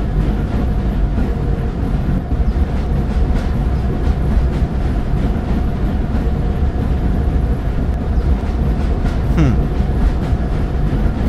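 A modern train rides along rails in the game Train Station Renovation, a loud, continuous rumbling roll with steady rhythmic clatter and no voices.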